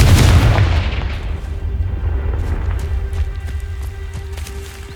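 A Confringo fire-blast spell in Hogwarts Legacy lands with a deep booming explosion that rumbles and slowly fades over a few seconds, loud and heavy, with faint game sounds behind it.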